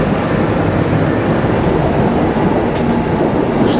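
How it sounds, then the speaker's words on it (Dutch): Lisbon's line 28 tram rolls along in a steady, loud, continuous rumble of wheels on rails and carriage noise, with no speech over it. "dan nemen we de tram. Nummer 28."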